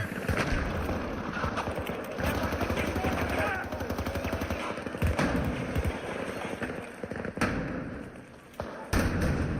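Rapid SMG gunfire from Battlefield 2042 rattles in dense, sustained bursts with brief pauses and heavier thumps mixed in, loud and close throughout the game action.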